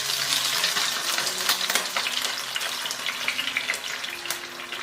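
Beaten egg goes into a pan of frying pork ribs, setting off a bright, busy sizzle with scattered crackles and pops that stays close and fairly loud, with no speech.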